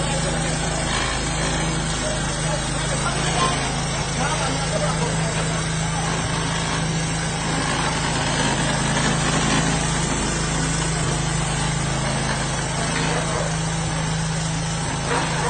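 A homemade car built from improvised materials runs with a steady, rough engine drone and a strong low hum that stays constant throughout, while people talk over it nearby.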